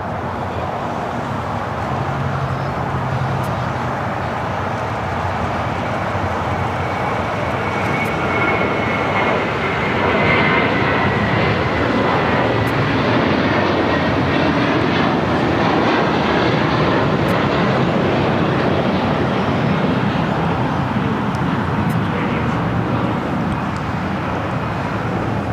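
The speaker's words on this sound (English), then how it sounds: "JetBlue Airways Flight 424 heading to JFK. It's an A321. Next takeoff here on the south side," A JetBlue Airways Airbus A321 jet roars down the runway and climbs away at LAX, a loud, sustained broadband engine rush that swells gently midway and holds steady, heard from a distance with no talking.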